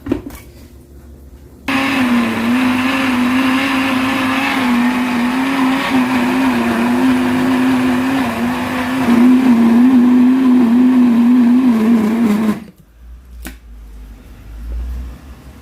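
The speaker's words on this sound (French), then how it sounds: "Et je vais la mixer et on se voit tout à l'heure." A countertop blender churns whole wheat bread dough of water and flour: a steady, loud motor whir with a strained hum runs for about eleven seconds, then cuts off abruptly into near silence.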